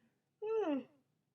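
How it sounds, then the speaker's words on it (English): A person gives one drawn-out yawn, a voiced sound that starts high and sinks in pitch over about half a second, close and clear against an otherwise quiet room. "I'm yawning so much"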